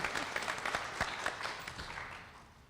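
Applause from an audience at a community discussion on surviving domestic violence in Harris County, a steady round of clapping that gradually tapers off.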